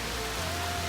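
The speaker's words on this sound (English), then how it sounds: "And it's raining again" Steady rain shower falling over a garden, a dense, even hiss of drops filling the whole short moment without any voices.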